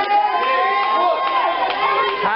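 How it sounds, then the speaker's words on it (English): The crowd at a live professional wrestling event cheers and shouts in a loud, sustained roar with high-pitched voices rising and falling throughout. "listen to that crowd behind him"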